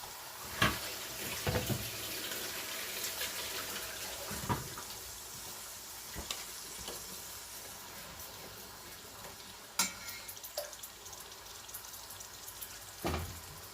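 Water added a little at a time to masala frying in a pot for Shab Degh, an Old Delhi winter dish, giving a steady sizzle and splashy pouring with a few sharp clatters and no talking.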